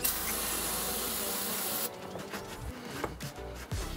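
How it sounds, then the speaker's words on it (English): Brake cleaner sprays onto a Chevy 350 starter housing as a steady, loud aerosol hiss that cuts off partway through, followed by faint rubbing and handling noises. "We've got a little bit of brake cleaner."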